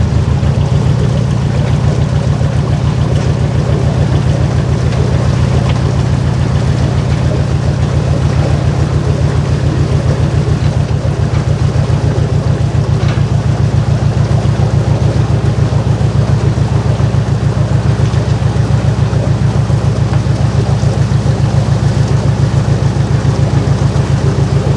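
A canal boat engine runs at Lapworth Locks on the Stratford Canal, a steady low chugging drone that stays loud and close and continuous for the whole stretch, with no voices.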